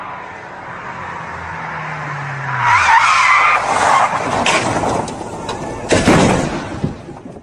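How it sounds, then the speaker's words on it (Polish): A rally car skids loudly on a loose surface, its engine note dropping away before a burst of scraping, crunching crash noise and debris, with a second heavy impact near the end. "Auto miał wypadek."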